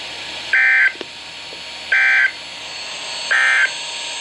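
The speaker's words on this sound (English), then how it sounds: "This ends the test of the National Weather Service weather radio warning alarm." NOAA Weather Radio warning alarm test tone from the National Weather Service: three steady, loud electronic beeps of equal length, evenly spaced about a second and a half apart, over a faint hiss.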